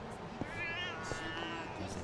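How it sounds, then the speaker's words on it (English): A cat in the video game Lost Judgment: The Kaito Files gives a single drawn-out meow at moderate distance over quiet game ambience. "There's a kitty."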